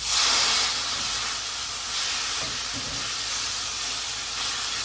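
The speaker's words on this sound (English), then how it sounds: "I'll add the white wine here" White wine goes into a hot pan coated with mushroom fond and gives off a loud, steady steam hiss that continues without a break for several seconds.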